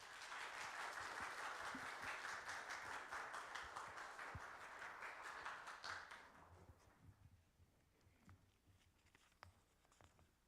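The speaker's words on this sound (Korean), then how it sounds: "감사와 환영의 마음으로 박수로 환영하시겠습니다" A church congregation claps warmly to welcome a missionary to the pulpit during a Sunday worship service. Dense, steady applause fills a large room for about six seconds, then thins out to scattered claps and soft taps.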